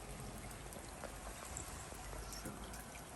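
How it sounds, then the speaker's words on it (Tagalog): Rain falls steadily on a cold winter day in snowy Japan, a dense, even hiss of drops and pattering close by with no pauses. "Umuulan na naman."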